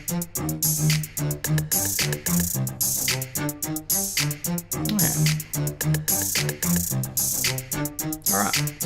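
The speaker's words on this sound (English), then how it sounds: "And the strings sound like this." Strings carry the lead melody in a produced song mix, playing a clear rhythmic phrase over a steady backing beat, loud and continuous with no talking.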